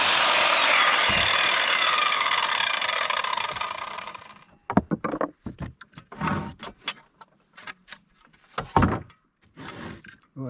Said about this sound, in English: Well, that saw didn't hesitate at all. It ran no problem.